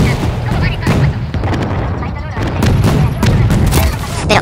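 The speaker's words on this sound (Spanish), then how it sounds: "me han matado con cohetes. Estos ataques de cohetes sí que me fastidian un poco." Rocket attack explosions and gunfire in Medal of Honor multiplayer come as repeated sharp booms and bursts in quick succession, loud and close, over a dense battle din.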